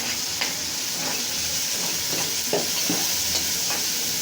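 Bitter gourd and prawns frying in a pan with turmeric, salt and cumin, a steady close sizzle with occasional stirring scrapes and bursts of spitting oil throughout.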